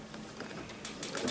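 A quilting machine stitches across a game day quilt design, giving a steady mechanical buzz with rapid repeated clicks, close and fairly loud, with no talk.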